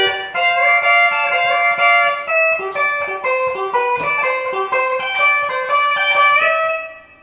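A pedal steel guitar plays a slowed-down version of the intro to a song alone, notes gliding and bending smoothly into one another.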